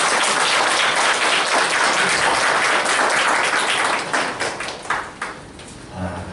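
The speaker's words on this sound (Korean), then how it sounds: "우리 박수로 환영하겠습니다." A church congregation applauds to welcome a pastor to the pulpit, a dense, sustained clapping that fills the room and then thins out into scattered claps near the end.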